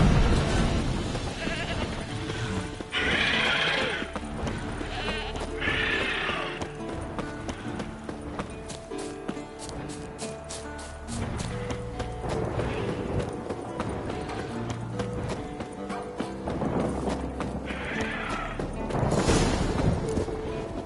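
Warhorse in The Witcher 3, hooves clip-clopping steadily alongside several whinnies and neighs, with bleating sheep or goats nearby in an outdoor scene, moderately close.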